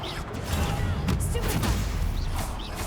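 Spell-casting combat effects in the Hogwarts Legacy video game: a dense, loud stream of crackling blasts and whooshing bursts that runs continuously with no pauses.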